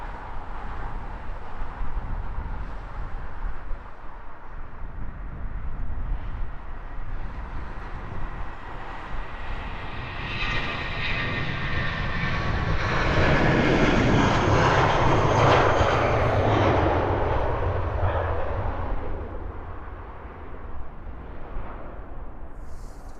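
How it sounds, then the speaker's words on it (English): A British Airways jet departs Heathrow bound for Barcelona, its engines building from a steady distant roar to a loud, broad climbing rumble with whining tones that peaks and then fades as the plane moves away. "Barcelona destination for this latest British Airways departure."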